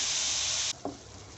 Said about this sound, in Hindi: ये 750 ग्राम चिकन का कीमा है। इसे मैं चिकन के वाइट होने तक पकाऊंगी।